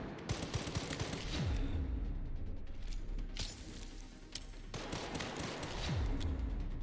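Gunfire in Resident Evil Requiem fired down at the floor: repeated sharp, loud shots in quick bursts over a dense, rumbling backdrop, with heavy impacts near the start and again late in the sequence.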